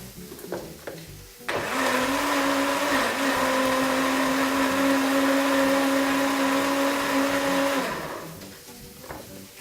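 A kitchen blender whirs through a spinach smoothie, starting abruptly after a few faint clicks and running as a steady loud motor whine for about six seconds before spinning down.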